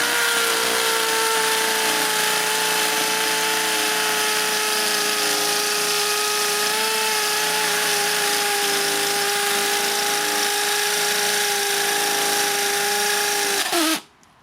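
A Makita 18-volt cordless hammer drill with an 11mm bit drills concrete steadily and loudly for about fourteen seconds with a droning whine, then stops abruptly.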